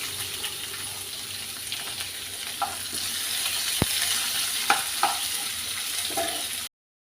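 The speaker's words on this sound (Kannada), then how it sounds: "ಇವಾಗ ಇದಕ್ಕೆ ಒಂದು ಸಣ್ಣದಾಗಿ ಹೆಚ್ಚಿದ ಈರುಳ್ಳಿ ಹಾಕ್ಕೊಳ್ತಿದ್ದೀನಿ." Chopped onion and red chillies fry for cabbage palya, giving a steady close sizzle, with a few sharp clinks and stirring knocks partway through; the sound cuts out abruptly near the end.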